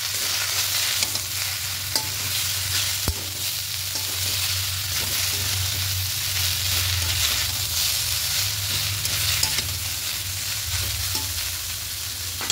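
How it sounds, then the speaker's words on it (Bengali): Red amaranth leaves and cut vegetables tossed together in a pan, a constant close sizzle with soft rustling stirs and an occasional click, steady throughout with no voices. "শাকের সঙ্গে সব সবজিগুলোকে মিশিয়ে নেব"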